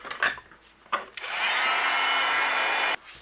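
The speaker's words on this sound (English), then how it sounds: "I'm going to go ahead and melt that embossing powder." A heat tool blasts a steady, close whooshing airflow for about two seconds while melting embossing powder for card making, preceded by a few brief clicks and handling sounds.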